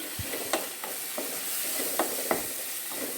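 Prawn biryani masala is stirred in a pan as chili powder goes in, making a soft continuous sizzle with several light scrapes and taps of the spoon, close and fairly quiet, with no talking.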